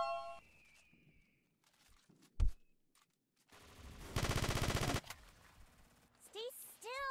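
Video game gunfire: a dense burst of rapid automatic shots rings out amid scattered electronic game sounds and brief voice bits.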